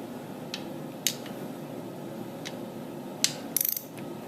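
A ratchet with an extension turns a bolt on a 2004 Harley-Davidson Dyna Custom motorcycle, giving a few sharp, separate clicks at close range over a quiet background, ending in a quick burst of rapid ratcheting.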